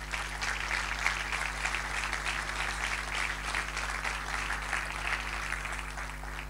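A church congregation applauds steadily, a soft, dense clatter of many hands over a low constant hum, continuing evenly without talk.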